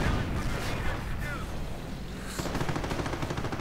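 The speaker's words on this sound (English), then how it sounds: "coming under fire from the Sherman rifle" Tank gunfire in a World War II strategy game as a Sherman fires on a Panzer IV, with loud repeated shots and rumbling battle noise running steadily throughout.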